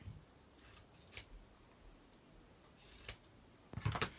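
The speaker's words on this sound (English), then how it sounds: "I just take my scissor, cut them apart" Scissors snip through cardstock, leaving small edges behind, while a handmade card is being made: a few sharp, separate cuts, one near 1.2 s, another near 3.1 s, then a quick cluster at the end, close and fairly quiet with no talk.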